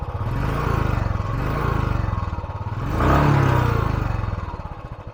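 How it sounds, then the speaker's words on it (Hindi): A Royal Enfield Classic 350 motorcycle engine idles close by with a steady, loud, rhythmic thump, swelling briefly with a light blip of throttle before settling back. "तो आप एक इसका थर्ड साउंड जो है धक धक धक धक वो ज़्यादा आपको इसमें मिलेगा।"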